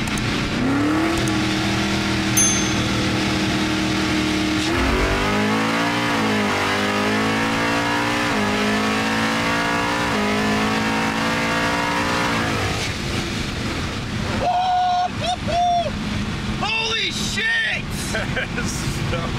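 A loud supercharged Ford Mustang GT engine revs and pulls hard through the gears, with rising and falling pitch sweeps; short tonal squeals and noise bursts follow near the end.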